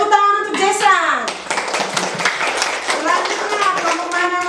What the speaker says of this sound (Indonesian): Tepuk tangan untuk Jason.